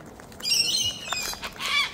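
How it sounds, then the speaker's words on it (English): Loud, harsh cockatoo squawks ring out in repeated bursts, several birds calling over one another close by with shrill, grating cries that rise and fall across the moment. "noisy birbies"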